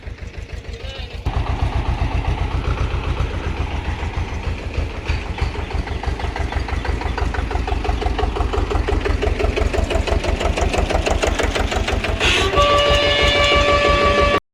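A small Sonalika tractor engine runs a pesticide spray machine, chugging in a fast, steady rhythmic beat close by and growing slightly louder over time.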